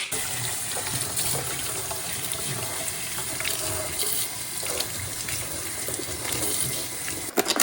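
Tap water runs in a kitchen sink as a stalk of vegetables is pulled apart and rinsed, a steady moderate gush with small splashes and a louder burst at the end.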